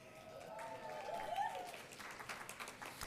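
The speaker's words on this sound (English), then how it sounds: "That applause is not for me" Faint applause from an audience greeting the CEO of the San Antonio African American Community Archive and Museum, soft scattered clapping with some murmured voices and a brief tonal sound partway through.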